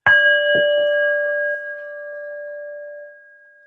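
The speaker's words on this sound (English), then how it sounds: "I'm going to start the meditation 1 bell." A single meditation bell struck once to open a session rings out clearly, its bright tone sustaining and slowly fading over several seconds in quiet surroundings.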